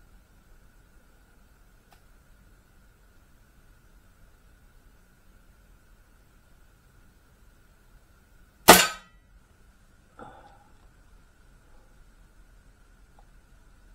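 A single sharp gunshot at a shooting range with a red dot sight fitted, loud and close, followed a second later by a fainter secondary knock, with quiet background hum before and after.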